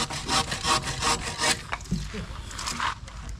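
A hand saw cuts through a wooden forked stick in quick, rhythmic back-and-forth strokes, close and loud, then slows into rougher, scattered rasps.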